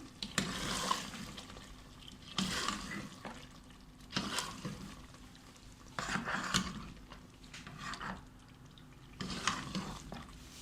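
A spoon stirs shahi beef korma in a pot after a spoonful of kewra water is added, producing repeated wet, scraping swishes in steady bursts about every two seconds.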